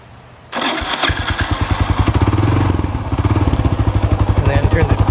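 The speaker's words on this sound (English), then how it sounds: "here's the choke right there, and then here's the key, and then hit the starter" A 1982 Honda FT500 Ascot motorcycle cranks on its starter and fires, the single-cylinder engine settling into a loud, close, steady thumping idle.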